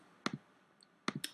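Computer mouse clicks come in two small bursts, a quick double click and then a triple cluster about a second later, sharp and close in an otherwise quiet room with no talk.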